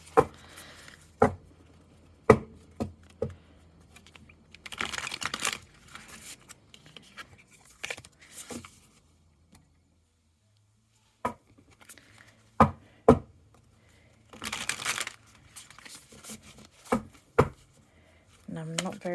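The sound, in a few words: shuffling tarot cards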